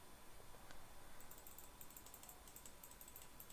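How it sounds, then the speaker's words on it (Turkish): Rapid, faint clicking of a computer mouse and keys during a Roblox session, a quick irregular patter of light ticks over a hissy background. "evet şu an mouse sesini duyuyor olabilirsiniz"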